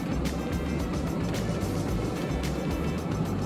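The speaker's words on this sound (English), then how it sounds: "Bunch of noise coming from the engine" A vehicle engine runs rough and nearly out of fuel, a steady low, uneven rumble with a faintly pulsing throb that continues throughout, close and fairly loud, with no voices.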